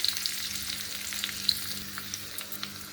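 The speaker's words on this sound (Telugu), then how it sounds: "నూనె బాగా హీట్ అయిపోయిందండి ఎల్లుల్లిపాయ వేసుకున్నాం" Garlic sizzling in hot oil in a pan, a steady close crackle with small pops and spatters throughout.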